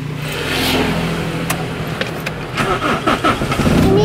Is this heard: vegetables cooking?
no